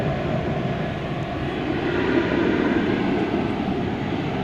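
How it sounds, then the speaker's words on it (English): An American Airlines Airbus A319 taking off at a major airport, a loud, steady, broad engine roar that holds constant throughout. "an American Airlines Airbus A319 off to Monterrey in Mexico"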